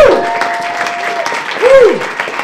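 Conference audience at a daytime event cheering and clapping in a sustained wash of applause, with whoops and voices rising over it and a louder surge near the end.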